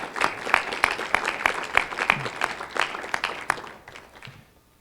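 An audience applauds a graduate at a fall commencement ceremony, lively clapping with distinct close claps standing out, holding for several seconds before tapering off into quiet.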